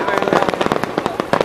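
Dense crackling Fourth of July fireworks in Nashville fire in a rapid, nearly continuous rattle of loud nearby pops, with people's voices underneath.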